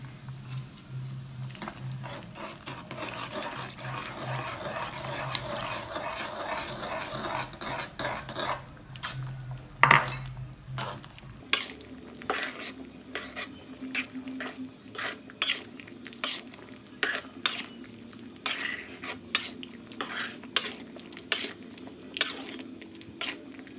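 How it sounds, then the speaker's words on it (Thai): Tapioca starch mixed with water poured into a hot pan and stirred, first as a dense sizzling hiss, then as repeated scraping and clinking of a utensil against the pan in an uneven rhythm. "แตงจะใส่แป้งมันลงไปนะคะ แป้งมันผสมกับน้ำนะคะ"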